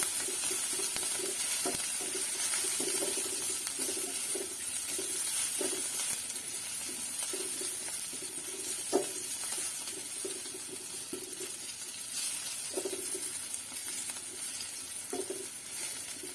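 Crushed garlic cloves sizzle in hot oil in a pan while a curry is made with shapla (water lily) flowers, a steady bright hiss with faint stirring clinks throughout, no voices.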